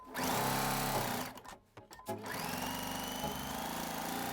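A home sewing machine stitches straight quilting lines for a triangle grid, whirring rapidly and close by. It pauses briefly in the middle with a few clicks, then resumes a steady run.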